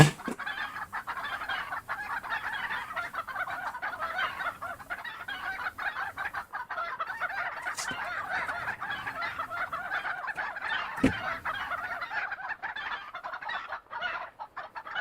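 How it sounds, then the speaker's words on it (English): Chickens clucking in a Godot game, a steady, busy flock of clucks and gobbling calls with occasional louder squawks, continuous and moderately close, no talk. "I'm gonna leave it on the chickens for a bit."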